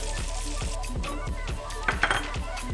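Bacon, cherry tomatoes and eggs frying together in a pan, a steady close sizzle with scraping and stirring, a few utensil clinks against the pan, no talking.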